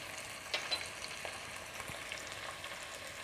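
Mutton pieces with turmeric and powdered spices frying in oil in a pan for mutton curry, a soft steady sizzle with a couple of brief stirring clinks near the start, no talking.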